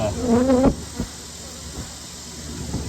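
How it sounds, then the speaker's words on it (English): Honey bees buzz inside a young nuc hive, a close, brief humming drone at the start that fades into faint scattered buzzing and low background noise. "And there's a lot of bees in here."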